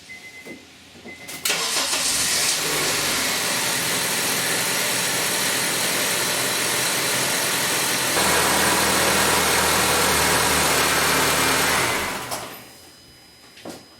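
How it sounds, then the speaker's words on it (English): A 2007 Honda Civic EX-L with a 1.8 liter engine cranks briefly, catches and settles into a loud, steady idle close by, which rises slightly before the engine shuts off near the end. "now we're just gonna go ahead and try and start the car a little bit"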